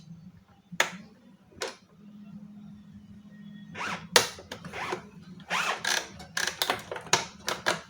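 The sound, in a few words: releasing clips and pulling out the Epson L3110 printer roller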